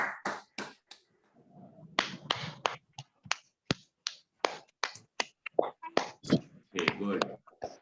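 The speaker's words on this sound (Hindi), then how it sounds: "देखिए कितना अच्छा सुनाया, जोरदार तालियां बजाइए गौरवी के लिए।" Students in an online children's class clap for a child's recitation, sharp individual claps in an irregular, sparse rhythm, close and distinct with brief gaps between them.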